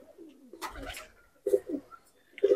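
Punjabi Malwai pigeons, a very short-bodied breed, coo nearby in a series of soft, rounded, throaty calls, with a couple of stronger coos near the end.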